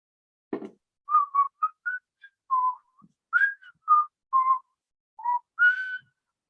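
A person whistles a melodic tune alone, with short separate notes and phrases in a quiet room, clear and close.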